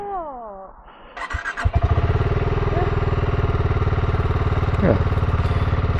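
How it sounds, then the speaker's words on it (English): A 2024 BSA 650 Goldstar motorcycle cranks with a brief starter whirr, then catches and settles into a loud, steady, close-up idle with an even throbbing pulse and a small blip of revs near the end. "See what it does when I fire this bike up."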